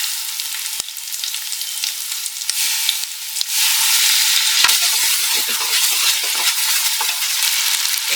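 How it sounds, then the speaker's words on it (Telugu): Two chopped tomatoes go into a pan with ginger-garlic paste and fry with a bright, hissing sizzle that grows fuller partway through. Occasional spoon knocks sound close up, and no one speaks. "ఇప్పుడు మనము 2 కట్ చేసుకున్న టమాటా ముక్కలు ఇందులో యాడ్ చేసుకుందాం."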